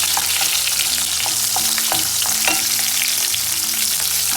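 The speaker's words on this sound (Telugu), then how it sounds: "కరింపాకు, అల్లం ముక్కలు, మసాలా సామాను, బిర్యాకు కొంచెం లైట్గా పట్ట వేసినాను," Curry leaves, ginger pieces and whole spices frying in hot oil for rava bath, a loud, dense, continuous sizzle with a steady crackle and light stirring ticks throughout, no voices.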